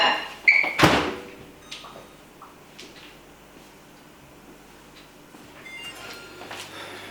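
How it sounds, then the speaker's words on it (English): A microwave oven door is opened and closed with a sharp clunk, followed by a few faint beeps and clicks as it is started, then a low hum begins. "And then put that in the microwave for 5 minutes."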